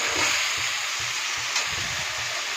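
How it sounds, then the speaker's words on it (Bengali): Spice paste fries in oil for a potato dum curry with a steady close sizzle, while a spoon stirs it in regular rhythmic scrapes. "দিয়ে এটা ভালো করে মশলাটাকে কষাতে হবে যতক্ষণ না তেল বেরিয়ে আসে"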